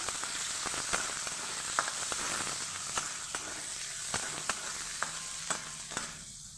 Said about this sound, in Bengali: পেঁয়াজগুলোকে আমি সুন্দরভাবে ভেজে নেব